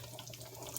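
Liquid from a can of broad beans pours out as it is drained at a kitchen sink, a short, steady splashing trickle close by.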